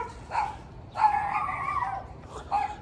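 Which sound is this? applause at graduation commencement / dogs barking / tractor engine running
dogs barking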